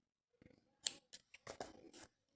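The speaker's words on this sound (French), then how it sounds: "je coupe mon fil" Scissors snip through crochet yarn after a finished 80-stitch chain, a few short, crisp cuts in quick succession, close and fairly quiet with silence between them.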